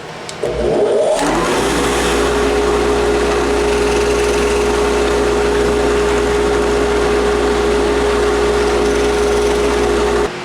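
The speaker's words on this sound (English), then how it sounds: "Now that we have our dowel holes drilled on both pieces" A loud, steady power drill whines continuously with a sustained tone after a brief start-up, running without pause and up close while drilling dowel holes in wood.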